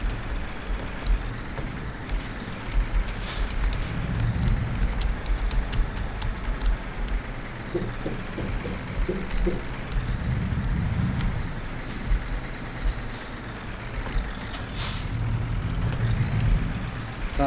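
A Scania G420 truck idles and rumbles while parking in Euro Truck Simulator 2, a steady low engine drone with occasional hissing air-brake bursts, and someone talks now and then.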